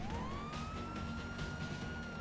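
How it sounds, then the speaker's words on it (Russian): A police car siren in the video game GTA 5 Online wails in a steady rising-then-held tone over continuous engine and road noise, moderately loud and alone without talk. "Выруби сирену. Как сирену выключить?"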